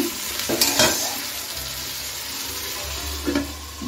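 Tomatoes with half a teaspoon of salt frying in a pan for a katla fish curry, stirred in a few clattering, scraping strokes over a steady close sizzle.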